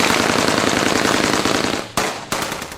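A long, rapid burst of automatic rebel gunfire along a road, loud and continuous, breaking off briefly near the end before firing resumes.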